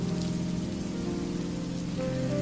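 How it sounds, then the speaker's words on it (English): Rain hisses down in a steady, even wash, with a low hum and some tonal sound underneath and no voices. "And the rain came hurtling down."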